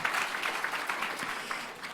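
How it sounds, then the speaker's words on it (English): Conference audience members applaud themselves at a desert gathering, a brief, fairly faint wash of steady clapping heard from some distance. "So give yourselves a round of applause."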